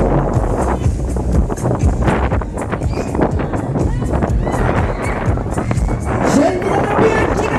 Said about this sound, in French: super accélération de la machine